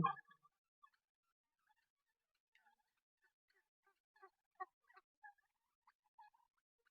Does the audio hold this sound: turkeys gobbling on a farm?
yes